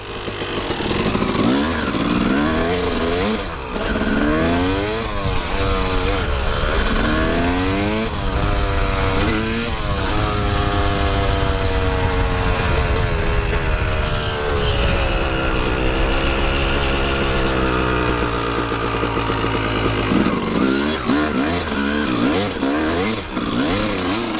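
A Yamaha YZ250 two-stroke dirt bike screams close by, revving hard and climbing through the gears in repeated rising sweeps, then dropping back to a rough idle and revving again.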